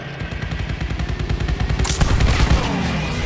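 Rapid automatic gunfire in Call of Duty Vanguard, a steady stream of loud, close shots with a louder burst and crack partway through.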